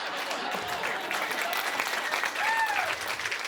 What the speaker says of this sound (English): I don't know what y'all clapping about